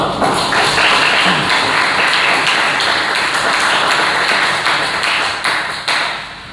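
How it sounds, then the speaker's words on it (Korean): Church congregation at a Sunday service gives sustained applause of thanks for a visiting preacher, a dense wash of many hands clapping steadily for several seconds before fading. "다 같이 감사의 박수 한번 드리겠습니다"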